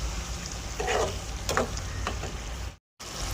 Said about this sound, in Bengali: ওটাকে মশলাটাকে ভালো করে মিশিয়ে নেব।